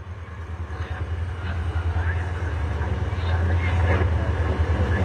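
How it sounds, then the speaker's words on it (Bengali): An intercity passenger train approaching from Dhaka, likely the Mohanganj Express near Tejgaon railway station, gives a steady low rumble that grows gradually louder across the clip, with a faint wash of higher noise and no clear horn. "ঢাকা থেকে একটি ইন্টারসিটি ট্রেন আসছে"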